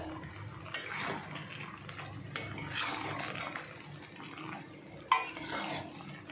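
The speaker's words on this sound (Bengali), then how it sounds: "গুঁড়োটা দিয়ে দিচ্ছি। দিয়ে একটু ভালো করে নাড়াচাড়া করে নিচ্ছি।" A spoon stirs ground roasted spice powder into a mango dish in a pan, with soft scraping and occasional sharp clinks against the metal, moderately close and with no talk.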